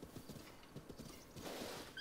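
Horse hooves clop in a quick rhythmic gallop in Zelda: Breath of the Wild, soft and fairly quiet, with a brief whinny rising right at the end.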